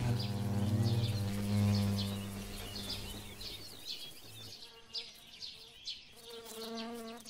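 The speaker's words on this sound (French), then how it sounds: "des abeilles maçonnes mâles se battant pour les femelles" Male horned mason bees fighting over females make a loud, close buzz that fades into fainter, intermittent wingbeats, with birds chirping faintly in the background.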